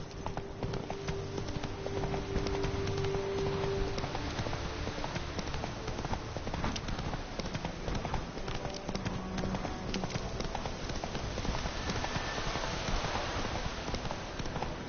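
A horse gallops in The Witcher 3 video game, with rapid, continuous hoofbeats pounding steadily throughout, dense and close over a constant wash of ambient noise.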